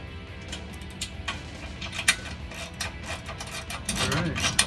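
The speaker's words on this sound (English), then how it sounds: "I'm going to go ahead and tighten these all the way down as tight as I can get them" Bolts are tightened on rocker step brackets of a 2021-2023 Ford Bronco, giving close, irregular ratcheting clicks and metallic scrapes that build toward the end, with no talking.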